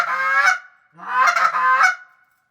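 A Big Hurt goose call imitates honker geese: two loud, close, deep honking bursts, the first a single note and the second a longer run of three rolling honks, with a short gap between.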